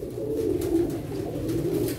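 Pigeons kept in a loft coo in a low, continuous, throaty murmur, close and steady for the whole stretch, with no voices over it.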